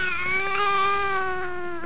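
Recorded sound of a mother and a child, a sustained wavering cry-like tone with a rich, steady harmonic pitch that resembles a cat's meow, heard clearly and alone.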